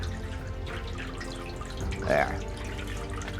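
Water sloshes and drips from a gold pan being worked by hand, close and fairly quiet, with one brief louder splash near the end and a short spoken word.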